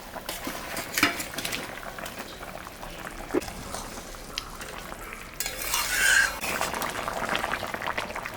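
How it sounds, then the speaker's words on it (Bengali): Fish pieces go into a boiling curry, bringing a continuous bubbling simmer with stirring and a louder surge of frying hiss and splashing partway through, close and steady. "এখন আমি মাছটা দিয়ে দেবো।"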